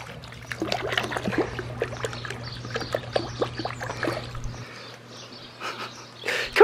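A puppy splashing in a backyard kiddie pool, with irregular close watery sloshes and trickles in a burst of activity that thins out, then a louder splash near the end, with no voices.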